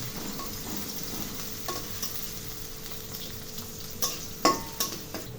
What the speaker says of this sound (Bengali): তেল গরম হলে তেলের মধ্যে প্রথমে ৪ কোয়া বড় রসুন কুচি, ২ টেবিল চামচ পেঁয়াজ কুচি দিয়ে একটু নাড়াচাড়া করব।